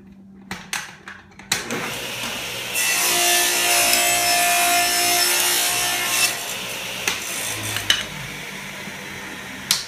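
Cutting a scrap piece of wood in a shop, likely on a miter saw: a few knocks and clatters, then a loud sustained whining cut lasting several seconds, followed by scattered bumps and clunks nearby.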